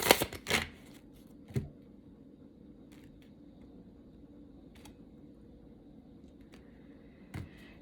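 A deck of tarot cards being shuffled in a few quick riffling bursts near the start and one more near the end, close and fairly quiet over a faint steady room hum.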